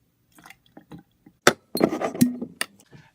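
Honey syrup is poured into a cocktail shaker packed with ice for a Bee's Knees, giving a short run of close glassy clinks and liquid splashes with scattered ice taps.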